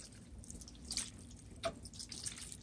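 A Maytag Epic washing machine with a replaced pump drains water, giving a faint, steady watery rush with occasional drips and small splashes, quiet and continuous with no voices.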